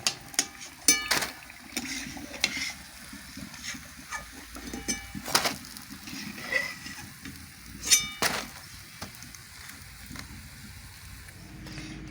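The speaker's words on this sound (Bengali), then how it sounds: "চলুন বন্ধুরা বাকি চপগুলো একইভাবে ভেজে নিই" Potato chops fry in hot oil in a home kitchen, giving a steady low sizzle with scattered pops and occasional clinks of a utensil, heard close and without talk.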